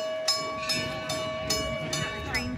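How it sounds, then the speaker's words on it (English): An old steam train pulls in at Greenfield Village, with steady tonal hissing and whistle-like hum broken by rhythmic chuffing bursts about every half second, fairly close and loud. "There's the old steam engine."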